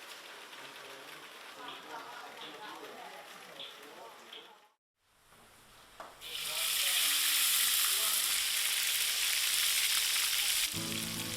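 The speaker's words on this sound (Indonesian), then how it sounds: "Bumbu rempah yang sudah dihaluskan, kemudian ditumis dengan sedikit minyak dan dimasak hingga matang." Ground spice paste sautés in a little oil, first as a soft, crackling simmer with light stirring, then, after a brief gap, as a loud, steady hiss and sizzle that fills the sound.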